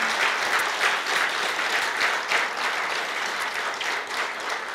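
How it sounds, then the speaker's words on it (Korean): Loud, sustained applause from the audience at a Korea University honorary doctorate ceremony, dense clapping rising and falling slightly over several seconds with no voices on top. "우리 여러분한테 저희 모친을 위해서 박수 한번 쳐주시기 바랍니다"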